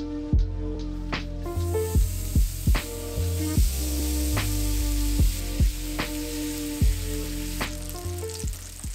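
Regular bacon sizzles in a pan for breakfast, giving a steady loud crackling hiss with frequent sharp pops throughout and no talk over it.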